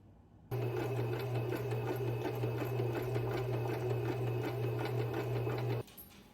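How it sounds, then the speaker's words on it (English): A sewing machine runs at a steady, even pace for several seconds, a constant mechanical whir and rapid stitching hum, then stops abruptly. "it'll take like 5 seconds on a sewing machine"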